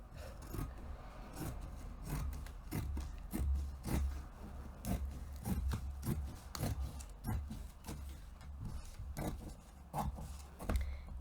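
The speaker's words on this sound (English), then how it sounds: "I'm cutting out pieces for the side back of the dress." Second-best dressmaking scissors snip through fabric pieces for the side back of a dress, a quiet, steady series of crisp cuts and soft rasping slides repeating about every half second, close and without speech.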